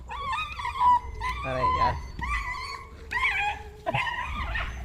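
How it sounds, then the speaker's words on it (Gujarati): Dogs fight on a road with close, harsh yelps, whines and snarling barks in bursts, while people talk and shout over the commotion. "જોઈ જાઓ કૂતરા રસ્તામાં યાર કૂતરો ઝઘડો થયો"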